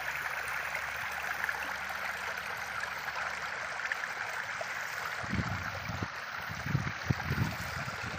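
A rain-swollen village stream at Kasarwadi rushes steadily with a broad, continuous wash of water, joined late by louder gurgling surges and splashes up close.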